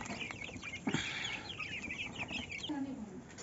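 A rooster clucks nearby in short, chattering bursts, with other fowl calling softly in the background.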